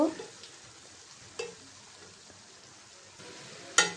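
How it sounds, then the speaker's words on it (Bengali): Mixed winter vegetables fry in a pan with salt, a soft sizzle under a few sharp spoon clanks against the pan as they are stirred. "একটু নাড়াচাড়া দিয়ে দিলাম।"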